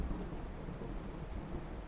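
Steady rain with low thunder rumbling through it in the video game DayZ, a dense continuous wash of downpour with no voices.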